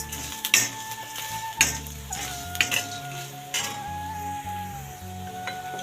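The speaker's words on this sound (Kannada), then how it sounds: "ಒಣ ಕೊಬ್ಬರಿನೂ ಹಾಕೋಣ, ಫ್ರೈ ಮಾಡ್ಕೊಳ್ಳೋಣ" Dry coconut and masala stirred in a pan for green chicken curry: a soft sizzle beneath repeated scraping and clinking of a spoon against the pan, with a faint tonal hum in the background.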